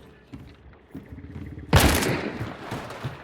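Gunfire in an esports shooter game as a player shoots through a wall at an opponent: a sudden loud burst of shots after quieter game ambience, with a rapid rattling tail.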